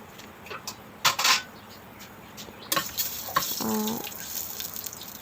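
Whole cardamom pods, cinnamon, cumin seeds and cloves frying in oil for a spicy mutton curry: a soft, low sizzle broken by a few sharp taps and scrapes as they are stirred, with a brief voice-like murmur.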